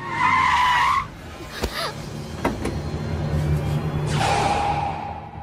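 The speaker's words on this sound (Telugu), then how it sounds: "అదిగో రాజుగారి కారు వస్తుంది, ఫాలో అవ్వండి" A car arrives with tires skidding loudly at first, then a steady engine rumble, sharp knocks, and another skid or squeal near the end, set in a comic film scene.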